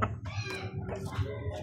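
A gray hen clucking nearby, a run of short throaty calls close to the listener, with no voices over them.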